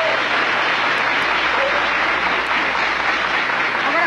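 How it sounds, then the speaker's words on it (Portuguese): Studio audience applause on a 1989 Brazilian talk show as a band is introduced, a loud, dense, continuous roar of clapping that stays even throughout. "Uma salva de palmas aqui, por favor."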